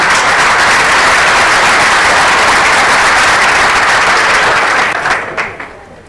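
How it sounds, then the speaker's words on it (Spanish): A conference audience applauding panel speakers on a security metrics panel, a dense, loud, sustained clapping from many hands that holds steady for about five seconds before tapering off into a few scattered claps. "Un aplauso para ellos, por favor."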